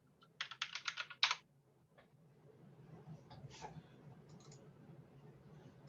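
A burst of rapid keystrokes on a computer keyboard as a terminal command is typed, a quick cluster of crisp clicks up close followed by a few scattered taps over a low background hum.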